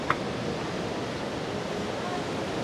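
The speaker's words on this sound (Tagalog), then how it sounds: "Medyo maalon po ngayon kasi rainy season eh." Rough ocean surf on a Zambales beachfront in rainy season, a steady broadband wash of waves and wind noise at fairly high level, with a brief click near the start.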